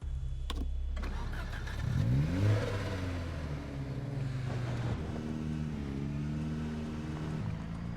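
A taxi engine in Project Zomboid cranks and catches, then revs up with a rising whine before settling into a steady, close idle.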